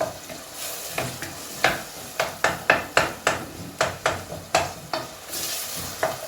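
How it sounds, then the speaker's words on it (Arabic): Onion frying in a hot pan for a Tunisian green fava bean, onion and green pepper shakshuka, with a steady sizzle under a series of sharp scraping stirs from a spoon against the pan, fairly loud and close, no voices. "لازم البصل يتقلى راهو"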